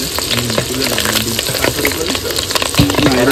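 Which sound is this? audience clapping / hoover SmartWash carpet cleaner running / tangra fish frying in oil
tangra fish frying in oil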